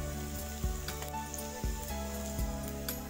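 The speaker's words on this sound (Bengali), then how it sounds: "দেখুন তেল আমার গরম হয়েছে। আমি রসুন দিলাম" Garlic sizzles and crackles steadily in hot oil for homestyle fried rice, a continuous frying hiss with a few louder pops and stirring bumps.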